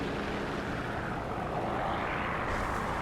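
A propeller aircraft engine drones in War Thunder during a realistic tank battle. It is a steady, loud broadband roar that swells slightly, with no speech.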